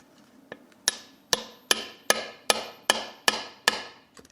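Metal hammer blows drive a part through a Honda CT200 Trail 90 engine during teardown: about nine sharp, ringing strikes at a steady, roughly even pace, close and loud, with no talking.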